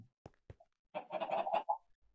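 Chickens in the video game Minecraft give a few quiet, brief clucks, first as sparse isolated clicks and then as a short, busier burst of clucking before it stops.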